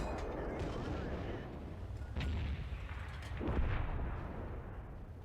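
Artillery shells strike a tank in World of Tanks, a German VK 30.02M medium tank, in a few muffled booming impacts over a continuous low rumble of engine and battle noise, with a voice talking over it.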